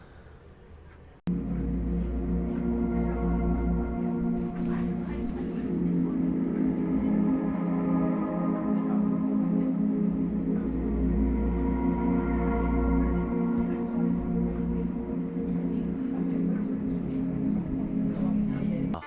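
Music plays steadily through an ASUS TUF Gaming monitor's soundbar, full and bass-heavy, with sustained tones and a deep low end; no voices.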